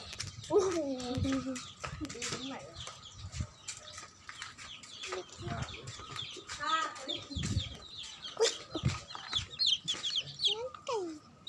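Chickens cluck and squawk repeatedly at close range during an outdoor walk, with irregular bursts and calls scattered throughout while people talk over them.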